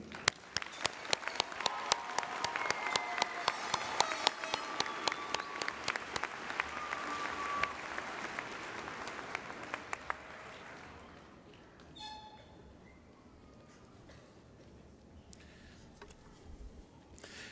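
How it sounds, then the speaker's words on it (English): Graduates at a fall university commencement ceremony receive applause from a large indoor audience: sustained, distant clapping with a few sharper nearby claps, dying away after about ten seconds into quiet hall ambience. "Please join me in applauding the graduates from the College of Business and Industry."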